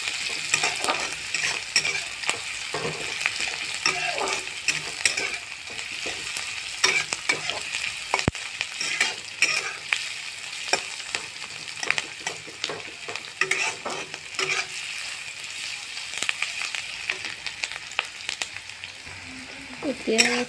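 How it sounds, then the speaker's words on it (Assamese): Onions frying in hot oil for a chicken curry, a steady sizzle with frequent scraping stirs of a spatula against the pan, close and continuous with no talking. "পিঁয়াজখিনি ভাজি দিছোঁ"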